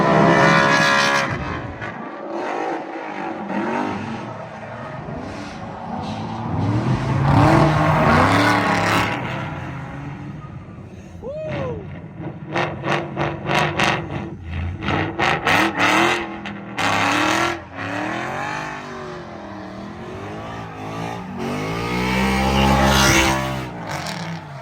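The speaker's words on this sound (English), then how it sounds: "This was Tyler and I's first tandem" Ford Mustang S550 cars drifting in tandem, engines revving hard with rapid rev-limiter bouncing and shifting pitch, loud and close, rising and falling as the cars slide together, with no talk.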